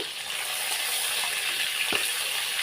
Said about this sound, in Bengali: এগুলো ভাজা করে নিচ্ছি